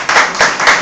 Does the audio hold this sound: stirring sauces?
no